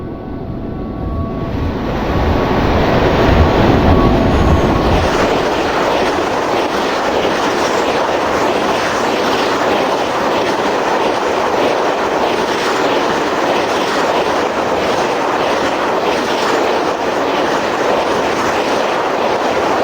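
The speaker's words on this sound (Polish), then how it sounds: "Na tor pierwszy przy peronie trzecim przejedzie pociąg bez zatrzymania." A train runs through a Polish railway station without stopping, passing close by a platform. A loud, sustained roar with rapid clickety-clack of wheels on rail joints carries right through to the end, with no voices.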